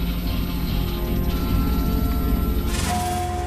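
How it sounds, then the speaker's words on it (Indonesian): A loud, steady mechanical buzz with a droning rotor hum hovers close overhead throughout, shifting slightly in pitch near the end. "Drone itu berdengung keras di atasnya dan menyorotnya"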